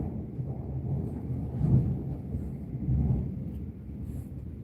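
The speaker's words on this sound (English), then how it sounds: "Ooh, that lightning." Thunder rumbling during a nighttime thunderstorm, low distant rolls swelling twice and fading, with faint rain and wind noise.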